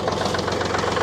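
A warming tractor engine idling close and loud, an even rumbling hum with a slight rapid pulse through a brief stretch, no voices over it.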